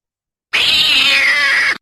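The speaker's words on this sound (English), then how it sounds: "The cat hisses, then lets out a screech" A black cat lets out a loud, sustained screech for a bit over a second, harsh and close, standing alone against silence as a spooky audio drama effect.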